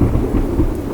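Heavy rain pouring steadily at night with a low rumble of thunder rolling underneath, a loud, continuous storm wash without any voices.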